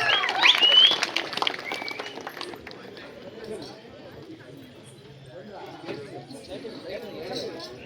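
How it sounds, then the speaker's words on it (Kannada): Audience at a village drama performance in Arasapura clapping loudly, a burst of dense applause at the start that thins into scattered claps and crowd chatter. "ಅಂಥವ್ರಿಗೆ ಮತ್ತೊಮ್ಮೆ ಜೋರಾದ ಚಪ್ಪಾಳೆ ಬರಲಿ ಅಂತ ಹೇಳಿ ಕೇಳ್ಕೊಳ್ತೀನಿ"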